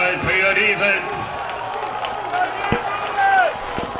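Football stadium crowd at a Benedict vs Fort Valley State college game, a broad steady roar of cheering on third down that swells near the end, with a commentator talking over it.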